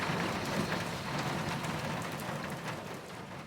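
Steady city rain pours down as a dense, even hiss of drops on surfaces, continuous and fairly close, with no voices.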